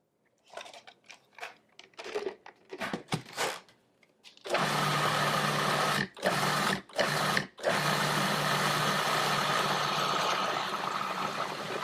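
A Cuisinart 14-cup food processor whirs steadily as it blends a creamy cilantro mixture, starting after a few short bursts and clatters and pausing briefly several times.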